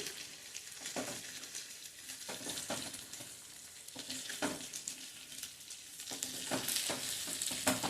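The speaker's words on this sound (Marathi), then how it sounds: "कांदा करपवायचा नाहीये, पण तो मऊ झाला पाहिजे." Vertically sliced onion frying in a pan over a moderate flame for chutney, a soft steady sizzle with repeated stirring scrapes every second or so, no voices.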